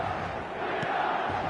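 Stadium crowd cheering after a goal in the eFootball video game, a loud, steady roar of many voices with no break through the whole moment.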